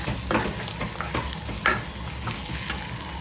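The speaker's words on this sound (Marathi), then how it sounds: "आता ही कस्तुरी मेथी टाकते आणि थोड्या वेळाच्या फ्राय करून घेते." Spices and dried fenugreek leaves fry and crackle in a hot iron wok with ghee, with a few sharp scraping stirs of a spatula over a steady low sizzle.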